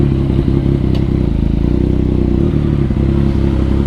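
Ducati Panigale V4 motorcycle engine running with a steady, loud low rumble and mechanical clatter throughout, a continuous close throbbing note without pauses or voices.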